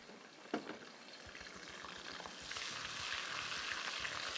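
A spiced paste is stirred into a hot pan for chicken badami qormi, giving a faint sizzle that swells into steady frying hiss, with soft scraping strokes and a sharp clink near the start.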